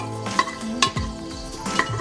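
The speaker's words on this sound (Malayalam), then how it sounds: "എണ്ണ ചൂടായിട്ടുണ്ട്. അണ്ടിപ്പരിപ്പിനകത്ത് ഇടുക." Cashews fry in hot oil and ghee inside a pressure cooker with a soft sizzle. A spoon gives a few sharp scrapes and clinks against the metal pot, close by and fairly quiet.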